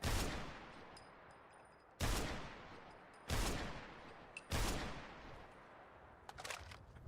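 Four separate gunshots in Fallout 4, evenly spaced about a second apart. Each is a sharp, loud crack with a long echoing tail, with small clicks and noises between shots.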